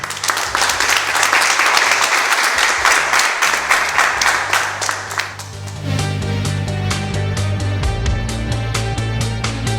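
A burst of crowd applause sound effect, dense and loud, plays for about five seconds, then cuts to a looping musical backing with sharp rhythmic hits.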